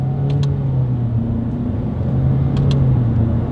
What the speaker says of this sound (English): Let's do a quick little paddle shifter test since we have them